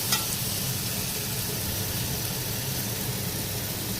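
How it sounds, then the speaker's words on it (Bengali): Masala for chickpea curry sautéing in oil in a pan, a steady close sizzle and crackle running evenly throughout with no talking. "আমি জল দিয়ে মশলাটা কষিয়ে নিয়েছি।"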